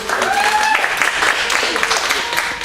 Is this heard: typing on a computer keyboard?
no